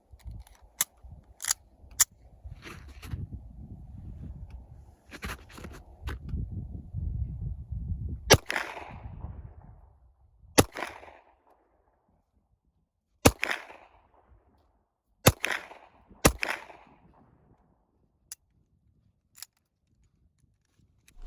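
A Husqvarna Lahti pistol is taken apart by hand, giving sharp metallic clicks and snaps spaced irregularly through near silence, with some low rustling handling noise early on.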